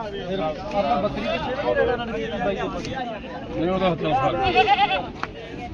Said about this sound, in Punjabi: ਬੱਕਰੀ